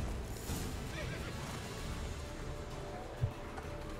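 The horse Roach in the video game The Witcher 3, neighing and galloping: a whinny sounds over a rumble of hoofbeats and game background noise, ending in a brief thump.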